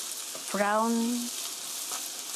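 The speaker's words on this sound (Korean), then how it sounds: "너무 자주 젓지 말고 살살 저어가면서 천천히 볶아주세요." Curry rice ingredients fry in a pan with a soft, steady sizzle running underneath, while a short tonal voice-like sound rises over it near the start.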